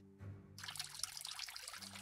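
Water pours and trickles in Frankenstein Master of Death, dumped over a film reel: a steady liquid splash that starts after a brief low hum and runs continuously to the end, with a low tonal drone underneath.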